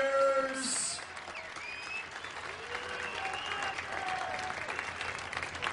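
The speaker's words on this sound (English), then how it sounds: "how about a big round of applause for these two" Crowd applause and cheering for two boxers after a fight, a steady wash of clapping with whistles and voices rising through it, moderately distant.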